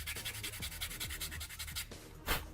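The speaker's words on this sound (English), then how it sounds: "And then we go back to the sanding block" A sanding block rasps against a plastic part from an MG Hyaku Shiki 2.0 model kit, rapid close back-and-forth rubbing strokes in a steady rhythm, then a pause and one final scrape.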